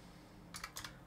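Four quick, faint keystrokes on a computer keyboard tap out in a short cluster over a quiet room hum.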